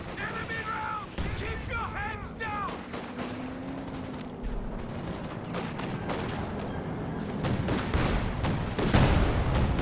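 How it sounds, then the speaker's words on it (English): An SU-76 self-propelled gun barrage in a World War II strategy game brings a dense run of booms and gunfire crackle. Battle noise grows louder toward the end while a commentator talks over it throughout. "SU-76 trying to barrage over the garrison, unsuccessful though."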